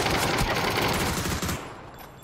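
A dense, rapid burst of automatic gunfire from the battle royale game PUBG rattles loud and close for about a second and a half, then cuts off and trails into a fading echo.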